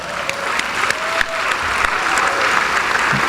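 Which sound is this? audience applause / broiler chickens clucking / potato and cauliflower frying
audience applause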